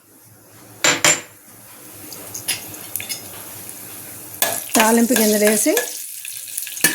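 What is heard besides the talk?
mustard and seasoning seeds sizzling in hot oil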